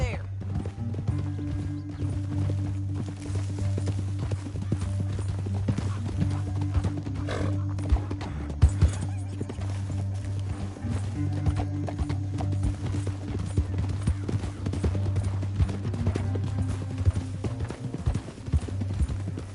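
Horse hooves clip-clop steadily in the Red Dead Redemption 2 video game, a continuous rhythmic trot over a low droning music bed, with a brief whinny-like flourish and occasional thuds, and voices talking over it.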